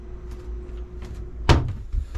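Large storage drawer on a 2017 Lagoon 39 catamaran sliding open, one sharp close knock in an otherwise quiet cabin with faint low hum, no talk.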